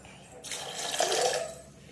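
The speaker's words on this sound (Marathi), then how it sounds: "पाणी अजून लागते त्यामुळे अजून पाणी टाकूया" Water pours into a cooking pot of dal khichdi over a high flame, a short splashing rush close by that swells and then fades within about a second, with no talking over it.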